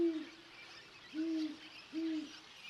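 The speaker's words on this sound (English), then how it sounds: "Great horned owls share these cliffs." Great horned owl hooting from cliffs in the wild, three deep, evenly spaced hoots carrying clearly over quiet, faint background.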